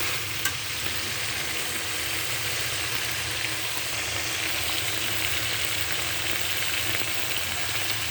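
Chicken meat sizzles and fries steadily in a pan with bay leaves added, a dense, continuous crackle with a low bubbling undertone that stays even and close throughout, with no voices.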